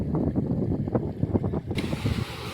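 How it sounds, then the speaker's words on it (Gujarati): Rainwater pours into a well as a continuous, dense rushing roar. It is heavy in low tones, with gusty wind noise over it and no voices. "કૂવામાં અત્યારે વરસાદમાં પાણી પડી રહ્યું છે"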